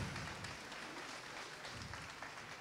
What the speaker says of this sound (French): On applaudit bien fort, bien sûr